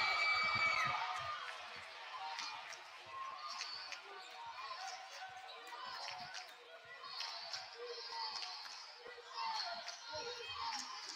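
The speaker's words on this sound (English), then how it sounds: "you can just hear the excitement from this crowd right now" A crowd at a women's varsity basketball game cheers and murmurs after a fast-break layup, with a ball bouncing on the court and a commentator talking over the lively, echoing gym noise.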